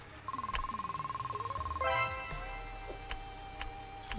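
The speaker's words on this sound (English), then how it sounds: "I can hear a phone ringing." A telephone rings in another room of a furniture-moving game: a rhythmic electronic trill of rapid pulses lasts under two seconds, then stops, leaving scattered clatter and background game noise.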